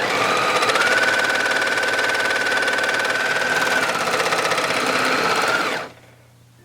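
An overlocker (serger) sewing machine stitching along the edge of a fabric pocket bag, a loud, steady, fast mechanical whir held for about six seconds, then cutting off abruptly to near silence.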